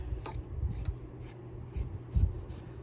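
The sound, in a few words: trimming excess quilt batting around a mouse pad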